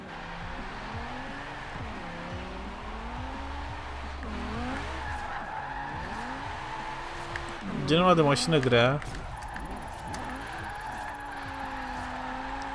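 A 2018 BMW M5 drifts at speed in Forza Horizon 4, its tyres squealing loudly in a wavering screech about two-thirds of the way through over a steady engine drone, while someone talks throughout.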